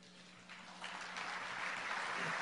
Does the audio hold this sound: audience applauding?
yes